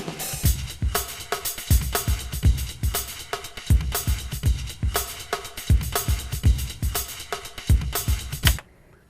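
A MIDI drum groove built with the Battery plugin, looping at steady tempo with punchy kicks, snare hits and bright cymbal wash, loud and continuous without talk until it stops abruptly at the end.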